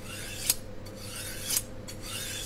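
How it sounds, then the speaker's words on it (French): A knife blade is drawn along a sharpening steel in two crisp, bright scraping strokes about a second apart, close and clear over a low steady hum. "Passez alternativement toute la longueur de la lame du couteau sur toute la longueur de la mèche du fusil."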